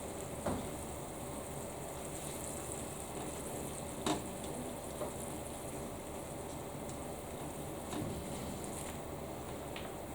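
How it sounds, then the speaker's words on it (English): A pan of jambalaya rice sizzles softly on the heat while it is stirred, with a faint frying hiss and a few light scrapes and clicks of the spoon against the pan. "Giving that a really nice stir."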